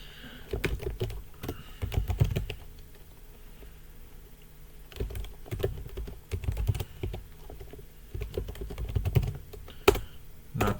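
A password is typed on a computer keyboard in quick bursts of close clicking keystrokes, separated by short pauses and ending with a few sharper key presses.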